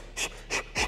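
A man imitates the forceful breathing of fighters striking, three short sharp exhalations evenly spaced about a third of a second apart, close and breathy.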